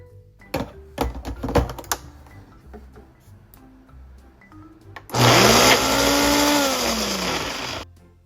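Several light clicks and taps come first, then a blender or food processor whirs loudly for about three seconds, with its motor pitch sliding as it runs on avocado chocolate pudding, and stops.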